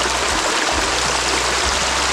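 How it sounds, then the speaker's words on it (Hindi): Spring water gushing from a small opening in a mountainside and flowing on as a stream, in the Soon Valley of Khushab, Punjab, Pakistan; a steady, full rushing flow close by, with no voices. "पहाड़ के अंदर से पानी निकल रहा है, छोटे से सुराख बना हुआ है और उसके अंदर से ये पूरी नदी बह रही है"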